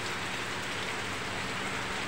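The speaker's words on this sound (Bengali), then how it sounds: "এই যে দেখো এমন বৃষ্টি হচ্ছে কি বলবো, সকাল থেকে বৃষ্টিটা হচ্ছে।" Heavy rain pours steadily on a roadside during a journey, a dense, continuous hiss close by with no let-up and no voices.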